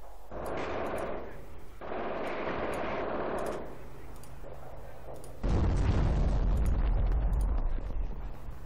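Artillery barrage in Company of Heroes Blitzkrieg, rolling rumbles of distant shelling, then a loud, close, deep explosive roar that keeps rumbling to the end.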